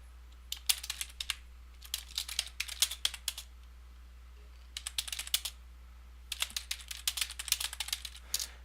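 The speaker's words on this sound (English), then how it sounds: "Notice me banging on the keys." Computer keyboard keys hammered hard during typing, in several rapid bursts of sharp clacks separated by short pauses, close and alone over a low steady hum.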